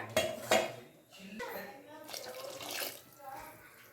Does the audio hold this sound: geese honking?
no